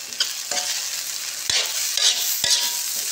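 Egg fried rice crackles loudly in a pan, a dense continuous sizzle broken by three or four distinct scraping strokes of a spatula, close up and without speech.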